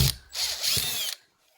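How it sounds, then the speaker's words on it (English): A power drill fitted with a long bit whirs through a ceiling for a second, the motor loud and close, with a brief wobble in pitch before it stops and leaves near silence. "I've drilled a hole straight through"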